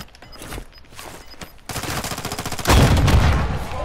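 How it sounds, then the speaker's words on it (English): Rocket launcher fire in Call of Duty Modern Warfare II, loud close bursts with a heavy blast that swells and rumbles near the end, amid rapid gunfire crackle. "I just shot that guy in the face with a rocket"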